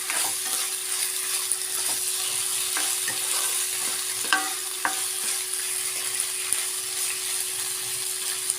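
Steady soft sizzling of macaroni in a pan with intermittent scraping stirs, low and continuous, no voices.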